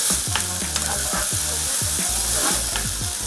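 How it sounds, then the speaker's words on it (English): Minced onion stir fried in a hot pan for yam balls, a loud continuous sizzle with rhythmic, close scraping strokes of a spatula repeating every fraction of a second. "I will add the minced onion and stir fry for more 2 minutes"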